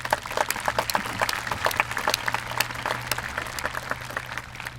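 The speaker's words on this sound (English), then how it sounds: "if you could give them a round of applause" Applause from the audience at a high school commencement ceremony, a sustained crowd of clapping hands heard at moderate volume with a steady low hum underneath.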